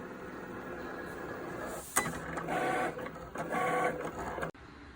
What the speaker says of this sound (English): this is the Cricut Explore Air 2 cut